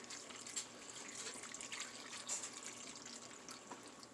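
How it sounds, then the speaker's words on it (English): Apple cider is poured into a crock pot in a kitchen, a faint, steady trickle and splash of liquid lasting a few seconds. "I'm just going to pour some in."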